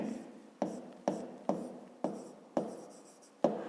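A pen writes on paper while a volume calculation is worked out, with seven short, evenly spaced scratching strokes, close up, soft and steady, no voices.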